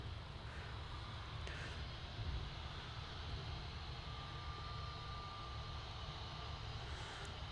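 A Singapore Airlines A350 taxiing at Manchester Airport gives a steady, distant jet engine drone with a low rumble and a faint thin whine, continuous and unbroken, no voices.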